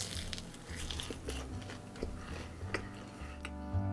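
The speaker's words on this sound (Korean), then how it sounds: "감자가 바삭하게 튀겨져서 감자만 뜯어 먹어도 맛있어." Crispy fried potato-coated mozzarella hotdog bitten and chewed close up, with repeated crunchy bites and moist chewing over a faint background hum.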